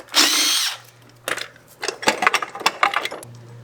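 A brief, loud whirring burst from an impact wrench tightening a bolt on a 50cc GY6 scooter opens the clip, followed by scattered metallic clicks and clanks of tool handling.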